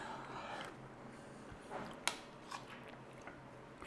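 A mouthful of curry is chewed close up, with soft wet mastication, a few small clicks and one sharp bite-like snap, all fairly quiet.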